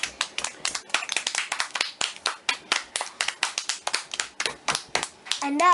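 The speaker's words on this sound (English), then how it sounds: "Can we clap?" A group of children clap together in a classroom, a fast burst of sharp, bright hand claps that swells and then trails off, with young voices calling out between them.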